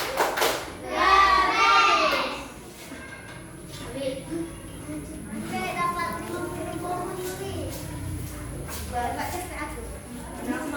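Children chant and clap in rhythm together for a thumb clapping game (tepuk jempol) at school, their voices close and lively, followed by continued chatter.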